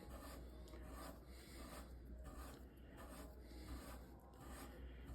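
Quiet, steady rasping as a chamfering tool deburrs the forcing cone of a Smith & Wesson Victory revolver (M&P pre-Model 10), with repeated scraping strokes in a soft, close rhythm and no talk.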